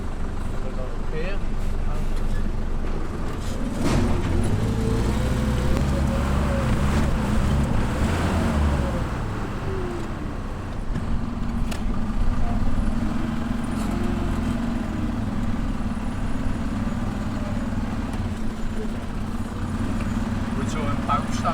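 A Unimog off-road truck crawls over rough ground and a tree trunk at low engine revs, giving a steady low rumble with wind buffeting the microphone and people talking throughout.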